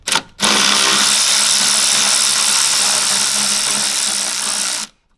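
Power tool set to loosen, whirring continuously at high speed for about four and a half seconds on 10 mm bolts of a Hyundai i30 diesel, close and loud, after a brief start-up burst and ending in a sudden stop.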